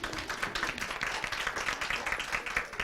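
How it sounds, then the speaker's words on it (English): Steady applause from a school district spelling bee audience, a soft, continuous patter of many hands clapping at a moderate distance. "Let's have a round of applause."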